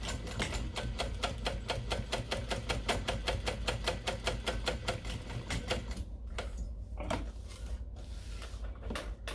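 A home sewing machine runs a steady top stitch along an ID lanyard with a zipper, its rapid, even needle rhythm close and continuous for most of the stretch before breaking into short stop-start bursts.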